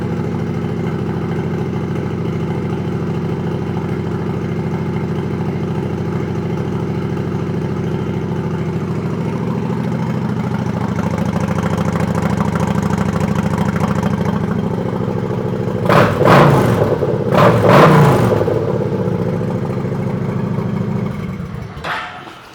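A 2011 Kawasaki Vulcan 900 Classic cruiser motorcycle idles steadily and loudly up close through its exhaust pipes, with the engine note swelling mid-clip and then two sharp throttle blips near the end before dropping back to idle.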